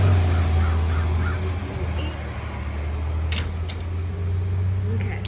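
Crows caw from a chilly morning backyard, a few sharp calls partway through over a steady low hum and background noise.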